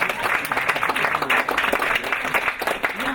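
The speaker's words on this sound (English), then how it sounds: "Clap." An audience at a polyglot conference talk claims steadily throughout, a dense, continuous wash of hand claps filling the room with no break.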